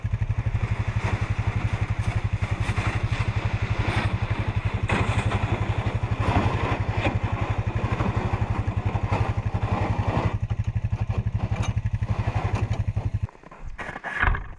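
An engine-powered saw cuts firewood in a gravel pit outdoors, its motor running loud and steady with a buzzing drone for about thirteen seconds before cutting out abruptly.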